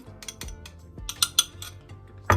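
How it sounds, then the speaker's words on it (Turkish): A metal fork pokes holes in homemade pizza dough spread with pepper paste and thyme, giving a few sharp clinks and taps against the pan, spaced irregularly at close range. "çatalla delikler açıyoruz hava alsın diye."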